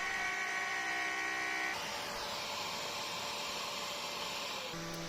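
Router trimming the edge of a wooden scrap piece in a workshop, a steady high whine that shifts pitch partway through as the bit meets the wood, continuous and fairly close.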